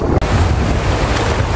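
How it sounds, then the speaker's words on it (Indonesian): Rain-swollen river rushing over small and large stones, a steady broad roar of flowing water, loud and close, with a brief dropout near the start and no talk. "beginilah situasi sungai yang setelah diguyur hujan"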